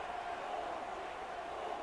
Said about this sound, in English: The crowd don't like it either.